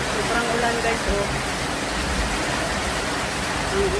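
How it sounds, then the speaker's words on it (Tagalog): Heavy rain pours in a dense, steady hiss that fills the scene at a constant level. It falls outdoors while twisted donuts are being cooked, and no one speaks over it. "Sobrang ulan guys, oh."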